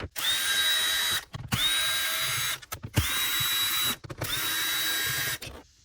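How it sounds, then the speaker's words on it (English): A power drill backs out T15 screws from a 2019-2023 Chevrolet Silverado dash, four close, loud whirring bursts of similar length separated by brief silences. "Next, I'm going to remove these T15 screws."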